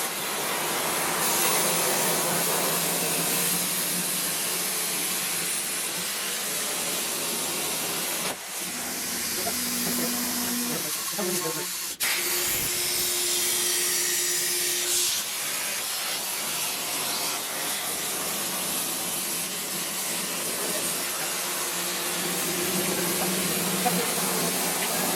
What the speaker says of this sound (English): So we're gonna go over to the plasma table and cut that out now.